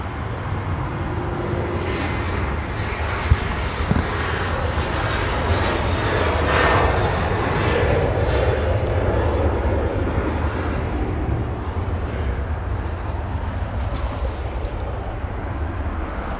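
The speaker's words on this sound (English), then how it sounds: "Now we go for the departure now. We have Delta Airlines." A Delta Airlines jet departing Los Angeles International Airport gives a steady, loud, broad engine roar that swells slightly mid-way and holds for about sixteen seconds, with faint background noise.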